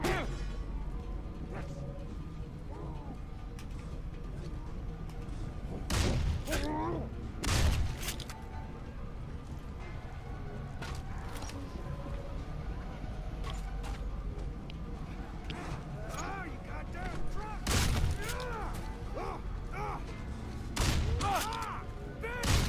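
Gunfire in Condemned 2: Bloodshot comes as a string of loud sharp shots and bursts, spaced unevenly over a rumbling game backdrop, with some talking in between.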